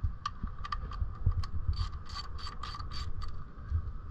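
A 10 mm ratchet clicks repeatedly as it loosens coil pack bolts on a 2007 Toyota Camry, giving bursts of sharp pawl clicks in an uneven rhythm over a low engine-bay hum, close and fairly loud.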